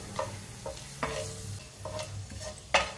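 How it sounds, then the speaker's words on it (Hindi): Whole garam masala, a bay leaf, a black cardamom, a cinnamon piece and six cloves, fries in hot oil with a low sizzle, while a spoon stirs and scrapes the pan in scattered, close knocks. "इसी ऑयल में ये डालूंगी मैं साबुत गरम मसाला, एक तेज पत्ता है, एक बड़ी इलायची है, एक दालचीनी का टुकड़ा है और 6 लौंगे हैं, ये डालूंगी इसमें।"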